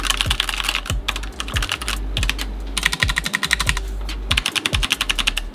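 Rapid clacky typing on a Red Dragon 60% mechanical keyboard, bursts of keystrokes with brief pauses and a few heavier thocks, close and clear.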